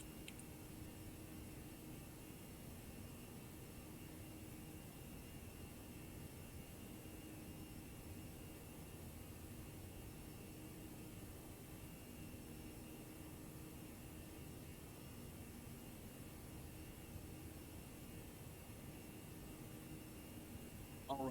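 Jet airliner engines roar steadily at climb thrust with flaps 1 set in the X-Plane 12 flight simulator, a constant broadband rumble that runs unbroken from start to finish.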